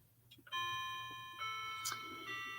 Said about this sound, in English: Let's see if it chimes the correct number of chimes.